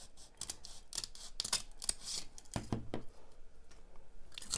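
Scissors snip through a styrofoam wreath form to trim off a corner, a run of short, crisp cuts close by with no voices.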